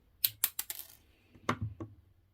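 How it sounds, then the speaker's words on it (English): Wire cutters trimming jewellery wire for a beginner woven pendant: a run of sharp metallic clicks and taps close by, then two more snaps after a short pause, in a quiet room. "now we're just going to trim off, leaving a little arm"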